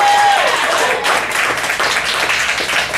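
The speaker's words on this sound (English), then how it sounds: "Give it up, nice round of applause for Mr." A comedy club crowd at the 2017 Charm City Comedy Festival in Baltimore claps and cheers, with a brief tone at the start and then a dense, even wash of hand claps.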